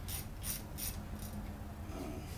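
A ratchet clicks in several quick strokes, close and clear, as bolts are snugged corner to corner on a V-4 or V-6 Evinrude/Johnson outboard motor water pump.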